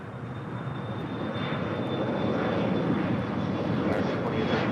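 An Eva Air Cargo Boeing 777 freighter arriving at LAX from Taipei gives a steady, loud, broadband jet roar that swells slightly and holds throughout, with a faint high engine whine riding above.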